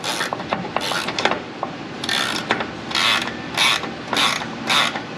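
A rusty bolt on a 1995 Jeep Wrangler 4.0 turns out under a ratchet wrench in quick, close clicking bursts with scraping metal rubs in between, loud and without talk.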